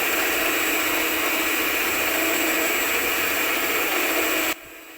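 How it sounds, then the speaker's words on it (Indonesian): An electric hand mixer runs at its lowest speed over sugar for a banana sponge cake, giving a loud, steady whine that cuts off abruptly near the end. "kemudian nyalakan mixer. Mixer di kecepatan 1 dulu."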